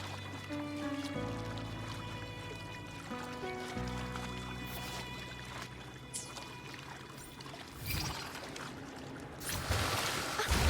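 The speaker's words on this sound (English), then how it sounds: "Another water rise is coming up." Rising water in the video game Wuthering Waves, a pouring, rushing wash beneath sustained game music that swells louder toward the end.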